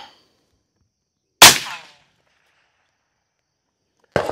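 Ruger LC Charger pistol in 5.7x28 firing VMAX rounds during accuracy testing at a range: two sharp, loud single gunshots several seconds apart, each a sudden crack with a brief echoing tail, with silence between.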